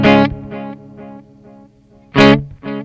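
Electric guitar played through an Alter Ego delay pedal, EP booster and amp, with struck chords ringing out into repeating echoes that decay, then two more sharp strums near the end, loud and up close.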